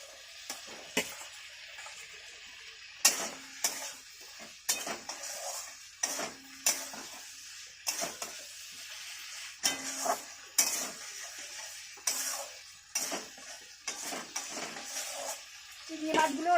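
Ash gourd pieces stirred and fried in a pan: soft sizzling with repeated scrapes and clinks of a spatula at an irregular pace, close and fairly quiet, with no talk.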